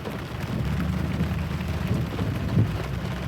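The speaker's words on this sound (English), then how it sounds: "it's finally raining at the property" Steady rain falls at a rural property, a continuous dense wash of drops with low rumbling undertones, even and moderately loud throughout with no voices.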